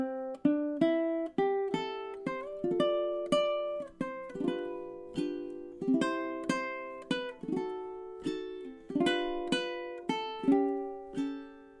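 A slow ukulele melody is played with soft thumb rest-stroke downstrokes, each note or layered chord plucked and left to ring before the next, in an unhurried, evenly spaced phrase with no voices.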